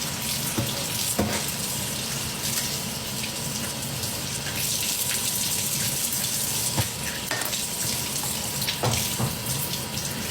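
Water from a tap gushes steadily into a sink while waiting for it to warm, a loud continuous splashing rush close by, broken by a few faint knocks.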